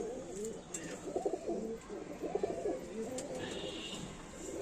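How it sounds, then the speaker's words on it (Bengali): Several pigeons coo in soft, rolling bursts nearby, repeated throughout against a quiet background with faint distant chirps. "এটা উড়ানের পায়রা আমার"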